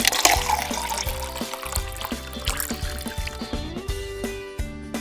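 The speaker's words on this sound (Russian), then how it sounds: "теперь зальем туда воды" Water pours into a cup, splashing and trickling steadily for several seconds, with a low rhythmic background sound underneath.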